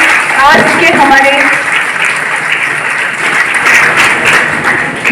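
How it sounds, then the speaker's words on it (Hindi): A crowd at a Gandhi Jayanti and Lal Bahadur Shastri Jayanti gathering applauds loudly to welcome the daughters, continuous dense clapping throughout, with a voice speaking briefly near the start. "जोरदार तालियों के साथ इनका स्वागत करें"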